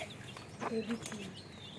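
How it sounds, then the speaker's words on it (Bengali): Soft, close clucking from a chicken, a few short notes in a quiet setting with faint background noise. "মুরগি চিকেন চিক চিক"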